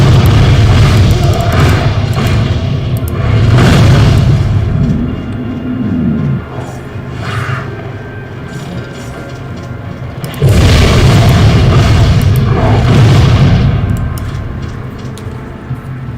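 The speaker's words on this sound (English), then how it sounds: "blast cannon's actually getting to the point where it's so powerful that some of the weaker enemies, it just blows them right off their feet backwards" Heavy blast cannon explosions boom repeatedly in the Torchlight 2 endgame maps, deep rumbling bursts in two dense clusters separated by a quieter stretch, loud and close.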